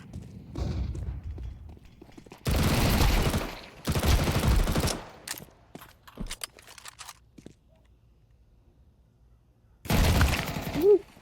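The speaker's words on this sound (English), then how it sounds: "Throwing flashbang." A flashbang grenade thrown in the video game CS2 gives loud, broadband bursts: three big blasts between sharper clicks and thuds, with a final burst near the end, amid game noise.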